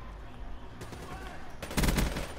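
Gorgon weapon in a multiplayer shooter firing a short burst, with a few close gunshot cracks near the end over game ambience and faint voices.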